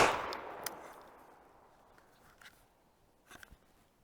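Browning Silver semi-automatic shotgun firing a slug, one sharp loud blast at the start that decays into a long fading echo, followed by faint clicks and clatter of handling.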